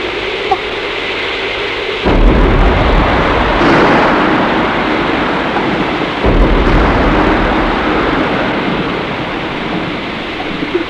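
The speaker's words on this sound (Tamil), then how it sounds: "மழை அதிகமாயிடுச்சு" Heavy, dense rain pours steadily outdoors in a Tamil comedy film scene, with deep rumbling thunder bursts striking around two and six seconds; no one speaks.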